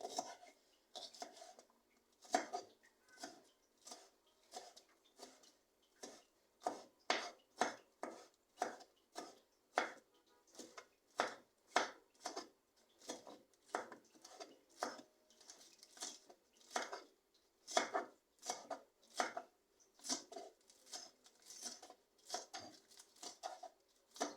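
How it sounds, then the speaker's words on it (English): A knife chopping scallion finely on a board, dozens of quick close taps in uneven bursts, fairly quiet with short pauses between runs. "So first I will cut my scallion. Cut them this fine."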